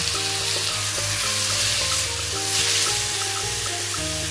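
Bitter gourd (ampalaya) sautéing with tomato, garlic and onion in a pan, a loud continuous sizzle and frying hiss with stirring clatter and clinks of a utensil throughout, no talking.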